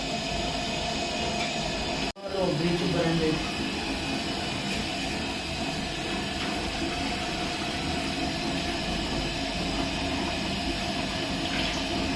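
Water pours steadily and continuously at close range, a sustained rushing splash that starts after a brief pause and keeps going without let-up.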